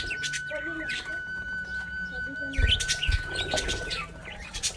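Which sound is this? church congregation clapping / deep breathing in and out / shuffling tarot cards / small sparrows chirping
small sparrows chirping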